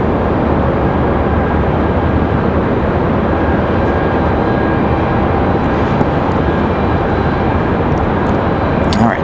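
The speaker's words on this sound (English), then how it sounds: "Alright, Southwest off to Dallas." A Southwest airliner takes off from Raleigh-Durham airport bound for Dallas, its engines a loud, continuous broadband roar that holds steady for the whole stretch, with a voice talking over it.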